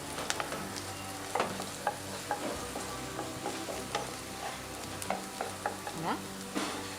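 Onions sautéing in olive oil for a seafood gratin, a steady close sizzle with scattered stirring clicks and scrapes running throughout, no talking.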